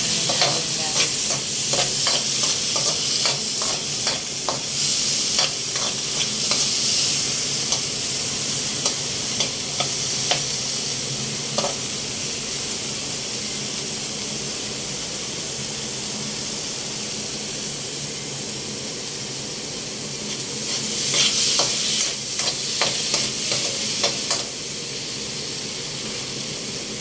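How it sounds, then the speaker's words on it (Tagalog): Tomatoes sautéing in a pan with onions already cooked down, a steady frying sizzle throughout with bursts of louder crackling and stirring near the start and again toward the end. "after magisa ng sibuyas, kamatis naman ang isa natin guys"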